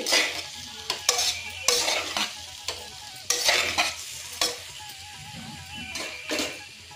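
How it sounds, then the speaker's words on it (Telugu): A utensil repeatedly scrapes and stirs vegetables in a pan, with sizzling frying underneath, in uneven strokes close to the microphone. "ఒకసారి కలుపుకోవాలి"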